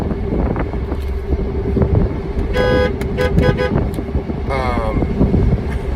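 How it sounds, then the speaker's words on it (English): A truck horn sounds in several short beeps amid engine rumble and wind, starting as a quick series and ending with one final longer honk. "The horn on this thing is weird. Try and stick to 3 beeps,"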